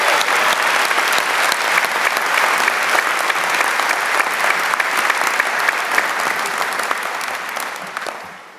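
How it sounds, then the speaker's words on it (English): A large audience at a university graduation ceremony for a Faculty of Health and Education claps loudly and continuously, a dense sustained applause that fades away at the end. "Will you give her a huge round of applause?"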